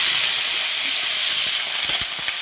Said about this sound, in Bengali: এই যে সরষের তেল দিয়ে দিচ্ছি, শাকটা ভেজে নেব